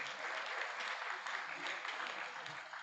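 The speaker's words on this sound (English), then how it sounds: "we should give Ralph Zucker and his team a fantastic round of applause if we can" An audience at a small business symposium at Bell Works, New Jersey, applauds Ralph Zucker and his team with a dense, steady wash of clapping that holds evenly throughout.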